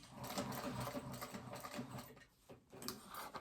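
A sewing machine runs steadily while stitching a phone pouch, its close, rapid mechanical whir and needle ticking continuous for about two seconds, then pausing briefly before a short final burst.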